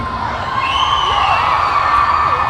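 A large convention audience at VidCon 2017 cheers and whoops loudly, with high shouts and screams rising over a sustained crowd roar.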